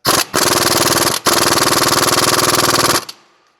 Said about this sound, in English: So hold on to the bolt, impact gun.